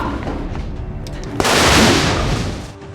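Gunshot striking a thrown gas canister in the film Gemini Man, a sudden loud blast that swells into a sustained roaring burst over a dense action-film soundtrack.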